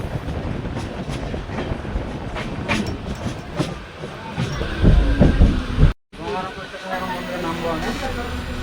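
The Howrah-Balurghat Express rolls into Gangarampur station with loud, close rail clatter and rhythmic clickety-clack, hissing brakes and a brief drop-out, then a steadier rumble as it slows; voices are mixed in.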